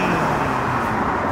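Street traffic noise recorded outdoors on a city street, a steady broadband roar of passing cars with a low rumble and no distinct pauses, fairly loud and unbroken.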